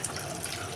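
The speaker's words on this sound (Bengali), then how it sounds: "তাই তাড়াতাড়ি করে একটু ঠান্ডা জল দিয়ে, ট্যাপের জলই দিয়ে ছাড়িয়ে নিচ্ছি খোসাগুলি" Cold tap water runs steadily into a sink while boiled green bananas are peeled under it, a continuous close splashing stream with no talk.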